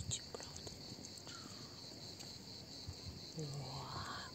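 A large black bumblebee, a Red Book species, hovers outdoors near the sea at Alushta. Its low, steady buzz swells in close near the end over a constant background of chirping crickets.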